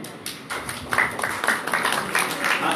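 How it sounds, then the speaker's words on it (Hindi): An audience at a university cultural event on folk heritage claps steadily in dense, continuous applause, many hands overlapping in a busy patter that stays fairly loud throughout. "आपकी तालियां रुकनी नहीं चाहिए"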